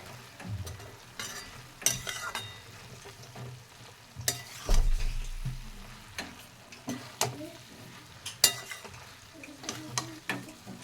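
Radish greens cooked with gram flour are stirred in a pan, with repeated scraping strokes and clinks of the utensil over a soft sizzle, in uneven bursts.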